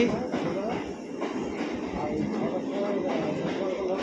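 A train rumbles past nearby at Madhyamgram station with a steady rolling rattle, voices murmuring faintly underneath.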